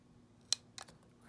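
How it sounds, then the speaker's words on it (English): A hand miter cutter snips through picture frame molding at a 45-degree angle, giving a single crisp, close snap followed by a couple of faint clicks in a quiet room. "Hold our miter cutter one more time. At 45, snip there."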